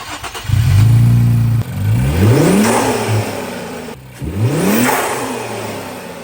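An Infiniti VR30 twin-turbo V6 fitted with aftermarket intakes revs up in a series of loud, close blips, with the pitch climbing and falling on each rev and no voices over it.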